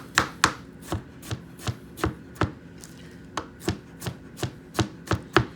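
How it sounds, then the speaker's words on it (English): A knife chops strawberries on a cutting board, sharp regular taps about two to three per second, close and clear with no talking. "So we're chopping our strawberries up."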